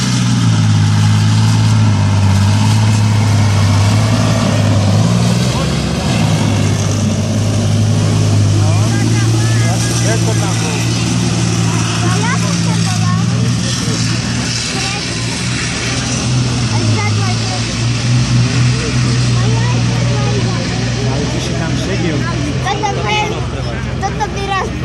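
A BVP-2 armoured vehicle drives off-road, its engine a steady, loud low drone with a strong rumbling hum that holds throughout and shifts slightly as it moves.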